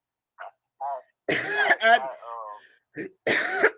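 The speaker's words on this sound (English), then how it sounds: "Turn to them and start coughing." A person coughs and clears their throat several times in short bursts, with some voiced, exaggerated sounds mixed in, close to the listener.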